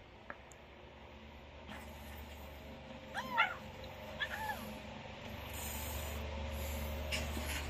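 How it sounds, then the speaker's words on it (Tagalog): A litter of about eight kittens kept together gives a few short, thin meows, close but quiet, against a faint, steady background. "O baka gusto nyo ng pusa,"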